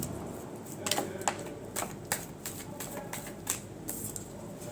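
Tarot cards being shuffled close up, a quick irregular run of soft papery flicks and riffles, moderately quiet with no talk.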